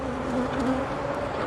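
Honey bees from a large beehive buzz in a continuous, fairly close drone that stays even throughout, with no voices over it.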